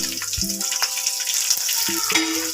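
Dried red chillies frying in hot oil for a pumpkin curry, with a dense, bright crackling sizzle running steadily and close, with no voices.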